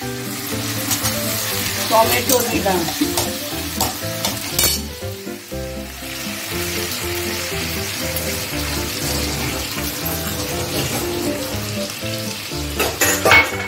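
Onion, garlic and ginger paste with tomatoes frying and sizzling in a pan for a Bengali fish-egg curry, a steady loud sizzle with stirring clatter throughout and no talk.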